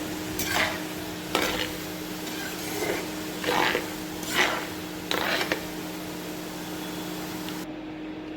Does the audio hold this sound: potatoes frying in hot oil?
yes